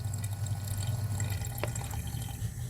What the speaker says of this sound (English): I'm going to rinse off that part.